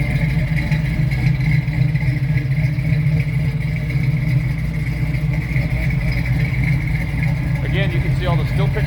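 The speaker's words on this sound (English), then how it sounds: "You'll hear it's got like just the perfect sound for what you would expect for a muscle car." Idling V8 engine of a 1972 Chevrolet Nova muscle car with exhaust headers, a steady deep rumble and clatter heard close from behind, with a voice talking faintly near the end.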